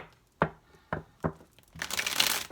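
A deck of tarot cards is shuffled, giving three separate crisp slaps of cards, then a longer riffling burst of rustling. It is fairly quiet and close, with no voices.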